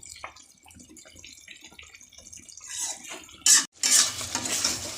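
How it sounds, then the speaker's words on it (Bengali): A spoon stirs vegetarian jackfruit curry in a pan, giving soft scraping and wet sloshing over a low sizzle, rising to louder clattering stirs near the end. "এটা দিয়ে আমি একটু নেড়ে নিলাম।"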